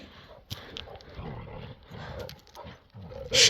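Tyson, an agitated dog, gives a few sharp barks and growly outbursts amid a noisy scuffle, ending in a louder close burst, with people talking and shouting nearby.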